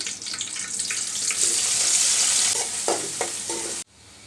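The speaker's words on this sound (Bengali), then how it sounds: "পেঁয়াজটাকে একটু লাল লাল করে বেজে নিলাম" Chopped onions frying in a pan with dried red chillies and bay leaf hiss in a loud, steady sizzle while a spoon scrapes and clinks against the pan, then the sound drops off abruptly near the end.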